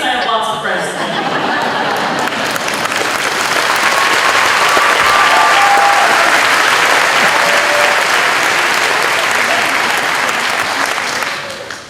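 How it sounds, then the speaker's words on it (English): Large crowd at a high school graduation ceremony breaking into loud, sustained applause that swells and holds for several seconds before tapering off, with faint chatter and chuckles mixed in. "Wasn't expecting that much applause."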